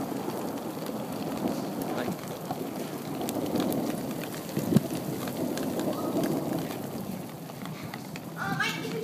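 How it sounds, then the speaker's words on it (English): Slushy, light hail falls during a February storm in Derby, Kansas, a steady dense patter on surfaces with scattered sharper ticks and one louder knock near the middle. "Nothing like a good February hailstorm. It's really not hail though,"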